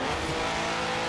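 A car in Forza Horizon 4 brakes hard and its tires squeal in a loud, continuous skid over the engine noise.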